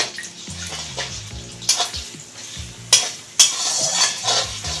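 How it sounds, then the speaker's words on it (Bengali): Beaten egg hits a hot pan for fried rice and sizzles loudly, with scraping stirs and a few sharp clatters of the utensil against the pan, close and without talk. "এখন আমি ফেটিয়ে রাখা ডিমটা দিয়ে দিচ্ছি"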